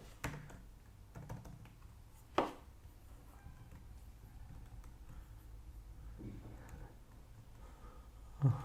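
Quiet, irregular tapping of a computer keyboard as a git command is typed, soft keystrokes in short bursts with a few louder isolated clicks over faint room noise.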